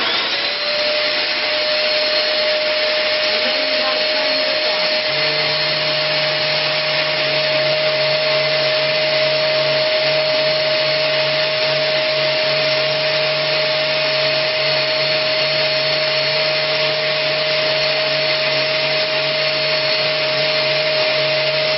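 A vacuum cleaner powering a Flowbee haircut attachment runs loud and steady throughout, its constant whine shifting slightly in pitch a few seconds in, with no talking.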